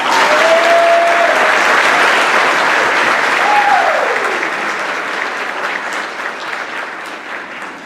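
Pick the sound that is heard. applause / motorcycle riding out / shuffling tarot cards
applause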